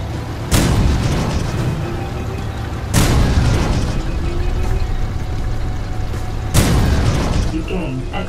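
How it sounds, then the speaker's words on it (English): Heavy weapon blasts destroy enemy mobs in the Switchblade video game, three loud booming bursts spaced a few seconds apart with rumbling decay between them. "Use your weapon to take them out."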